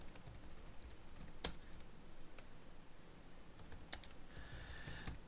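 Typing on a computer keyboard, a quiet run of irregular soft key clicks with a few sharper taps, close but faint against low room noise, no talking.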